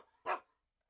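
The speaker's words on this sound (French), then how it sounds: "Il y a des chiens qui m'empêchent de passer." A single dog bark in the video game Shadow of Memories, one short sharp yap at moderate loudness followed by silence.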